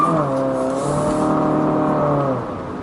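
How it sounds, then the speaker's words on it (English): A 2020 Infiniti QX50 with a 4-cylinder engine accelerates on the road, its loud harmonic engine tone rising steadily in pitch before easing off near the end. "So we're going to try to give it a little gas here."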